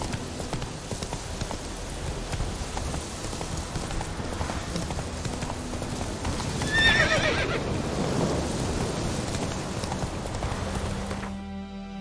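Horse hooves pound in a quick gallop through The Witcher 3, with a sharp neigh partway in, all set against a steady wash of rain; no talking, and the sound cuts off abruptly near the end.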